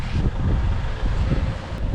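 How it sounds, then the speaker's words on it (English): Gusty wind on Koh Larn Island, Thailand buffets the microphone with low rumbling blasts that rise and fall over a couple of seconds. "It's getting super windy here, so let's hope it's not gonna start raining."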